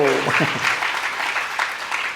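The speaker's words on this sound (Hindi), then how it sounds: "तालियां बजाना अच्छा है" An audience at a religious discourse event claps together in a dense patter of applause, with a voice briefly audible at the start.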